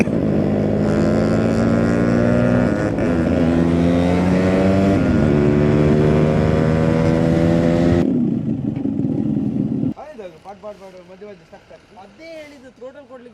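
A motorcycle fitted with a cat silencer exhaust runs loud and close with a throbbing, rising engine drone for about eight seconds, then fades to a lower, rougher tone.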